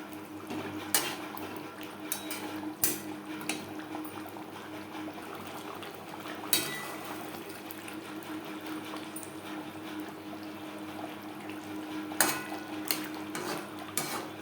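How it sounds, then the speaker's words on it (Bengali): Fried silver carp pieces being stirred into a pot of gravy for a Bengali fish curry, with repeated clinks and scrapes of a metal spoon against the pot over a steady low simmer, several sharp knocks standing out, no one talking. "গ্রেভির সাথে মাছ বেশ ভালো করে মিক্সড করে দেবো"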